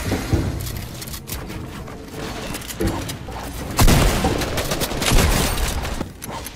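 Rocket launcher fire and explosions in the video game Fortnite, with a heavy boom standing out near the middle over a dense, continuous wash of gunfire and combat noise.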